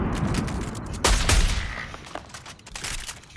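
A fast-firing sniper-style weapon in a video game lets off rapid, crackling gunfire. The shots come in quick bursts, with one louder volley in the middle.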